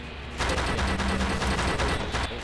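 Gunfire in the stealth video game Splinter Cell: Chaos Theory, Versus mode, in a quick burst of several rapid shots lasting about two seconds, fairly loud and with no talking over it.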